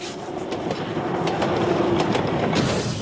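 A 1/3 replica Garratt steam locomotive runs on a small railway, giving steady rolling wheel clatter with light rhythmic clicks and faint hissy bursts throughout.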